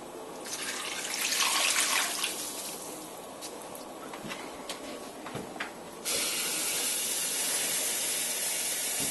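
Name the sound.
tap water added to a cooking pot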